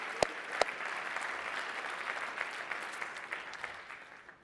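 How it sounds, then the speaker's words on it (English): An audience at a proptech accelerator demo day applauds in a steady, moderately faint patter of clapping, with a couple of sharper claps near the start and the applause tapering slightly toward the end. "I want to give a big round of applause and thank all of you for spending time with us"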